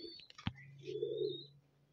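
Pigeons in a loft cooing, a soft low coo following a small click, close and quiet with a faint higher chirp nearby.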